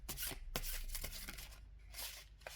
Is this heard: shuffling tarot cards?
yes